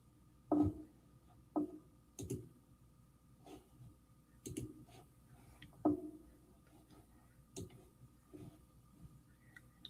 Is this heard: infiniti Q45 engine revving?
no